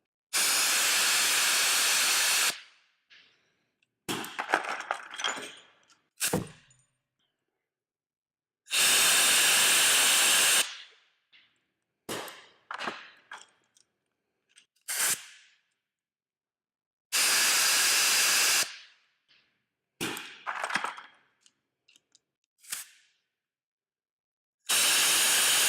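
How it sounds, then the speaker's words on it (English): Merlin and Snap-on Hi-flo blow guns fire alternating blasts of compressed air, each a loud sustained hiss lasting about two seconds, with short rattling handling noises between blasts and no talking. "The snap-on gives a larger blast of air with ever so slightly more force."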